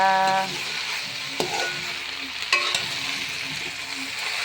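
Rice is stir-fried in a hot pan, giving a steady close sizzle with a few sharp scrapes and knocks of the spatula against the pan.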